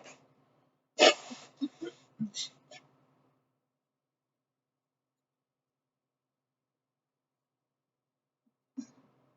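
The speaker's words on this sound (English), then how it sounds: "Hold on, I gotta blow my nose," A person blows their nose into a tissue in a few short, sharp bursts near the start, then falls quiet before a faint final sniff; no speech.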